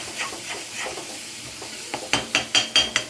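Tomatoes stirred and mixed in a frying pan, a quiet sizzle at first, then a quick run of five or six louder scraping strokes from the spatula near the end.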